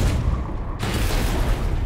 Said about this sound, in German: explodieren Bomben in ihrer Nähe.